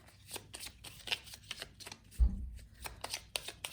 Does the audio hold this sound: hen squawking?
no